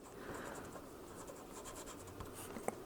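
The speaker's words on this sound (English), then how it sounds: "take like a popsicle stick or something like that, write on there what it is that you planted" A pen scratches out writing on a popsicle stick used as a plant label for indoor seed starting, faint and close with soft, uneven strokes and a small tap near the end.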